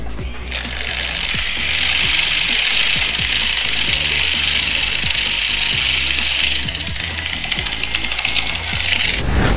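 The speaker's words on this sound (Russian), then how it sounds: "Измельчать, конечно, можно и болгаркой." An angle grinder grinds graphite steadily for several seconds: a loud, continuous, high-pitched abrasive hiss over a low mechanical rumble, with no pauses.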